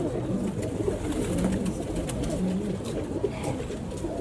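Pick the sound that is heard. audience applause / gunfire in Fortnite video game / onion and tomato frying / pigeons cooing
pigeons cooing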